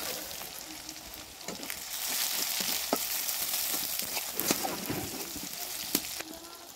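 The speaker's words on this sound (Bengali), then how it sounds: "টমেটো দিয়ে আবারও পেঁয়াজের সাথে ভালোভাবে ভেজে নেব খানিকটা সময়।" Onions and tomatoes fry in a pan with a steady, close sizzle, dotted with sharp crackles and pops throughout.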